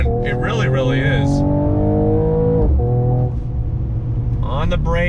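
A 2020 Mercedes-AMG CLS 53 in Sport Plus mode revs loudly, pitch climbing through the gears as it accelerates hard and close, with a brief shift and more revving.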